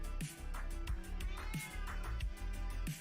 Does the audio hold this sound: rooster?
no